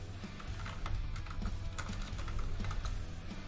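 Rapid, uneven keystrokes on a computer keyboard while coding in C#, a steady run of light clicks close up over a low background hum, with no speech.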